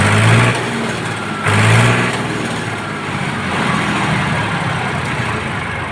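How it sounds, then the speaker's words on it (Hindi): A just-repaired tractor engine runs loudly nearby, with two short revving surges early on, then settling into a steady, rough idle. "और यहाँ पर भाई ने ट्रैक्टर को सही कर दिया है, स्टार्ट होने लगा है।"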